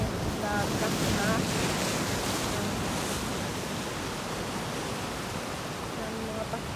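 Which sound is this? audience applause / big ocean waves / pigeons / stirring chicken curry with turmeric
big ocean waves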